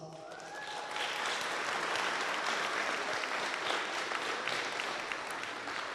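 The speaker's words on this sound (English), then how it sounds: "give them a round of applause" A graduation commencement crowd gives a sustained round of applause, building quickly then holding as a broad, even wash of clapping from many hands, fairly distant in a large hall.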